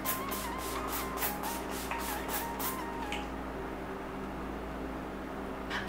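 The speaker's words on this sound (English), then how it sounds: "This is the Urban Decay All Nighter Makeup Setting Spray, and I'm just going to spritz this all over my face." Urban Decay All Nighter makeup setting spray is spritzed over a face in about eight quick, hissing bursts in a steady rhythm, close and fairly soft, followed by near quiet.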